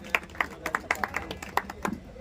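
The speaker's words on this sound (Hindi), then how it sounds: "उनके लिए भी जोरदार तालियां।" A short burst of scattered, close hand claps rises from a small gathering as a guest arrives at a local political meeting, uneven and fairly quiet, lasting about two seconds.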